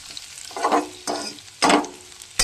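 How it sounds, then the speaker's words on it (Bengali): Whole spices and a bay leaf tempering in hot oil, with sizzling that flares in three loud bursts as ingredients hit the pan, settling to a steady crackle between them, close and without talk. "এদিকে দেখুন সম্বার দিচ্ছি।"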